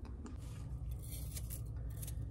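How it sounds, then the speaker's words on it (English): A knife chops a sweet onion on a board in a few sharp, separate cuts, faint over a low, steady background hum. "I'm just chopping me some onion up"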